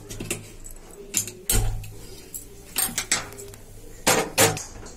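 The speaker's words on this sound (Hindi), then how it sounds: "ढक्कन बंद कर रही हूँ।" A few sharp metallic clanks and clatters as a pressure cooker lid is set and locked, scattered over about five seconds with quiet gaps between.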